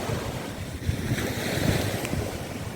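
Sea waves wash onto the shore at Mamangal Beach in Catanduanes, a continuous loud rushing surf mixed with heavy wind buffeting the microphone.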